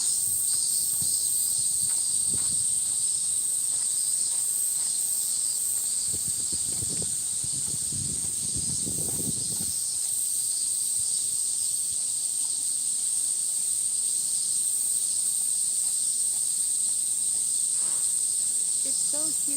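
Cicadas in a humid Tokyo park shrill in one loud, unbroken high-pitched drone that dominates the whole stretch, with faint rustling and footsteps beneath it and a brief voice near the end.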